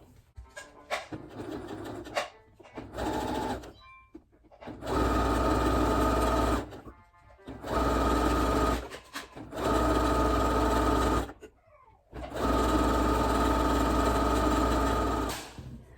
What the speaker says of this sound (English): go all the way around on the sewing machine